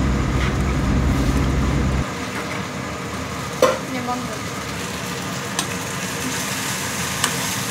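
Maggi noodles stirred and fried with spices in a pan, a steady sizzling hiss with scraping stirs and occasional light clinks of the utensil, close and continuous without talk.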